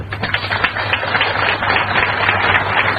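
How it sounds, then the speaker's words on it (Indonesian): An audience at a church sermon breaks into applause, a steady wash of many hands clapping together for a few seconds, dense and fairly loud. "Beri tepuk tangan"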